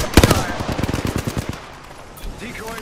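Rapid automatic gunfire from Apex Legends, a loud close burst of evenly spaced shots lasting about a second and a half, followed by a quieter tail with faint game effects.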